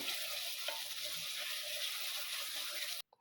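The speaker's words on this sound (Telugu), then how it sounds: "పచ్చివాసన పోయేంత వరకు వేయించుదామండి మసాలా అంతా" Masala of turmeric, chili powder and coriander powder sizzles steadily in a hot pan, a loud, close, continuous frying hiss that cuts off abruptly near the end.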